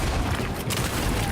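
Gunfire in the Alan Wake 2 video game, a dense, loud burst of rapid shots filling the whole short moment, with a brief dip partway through.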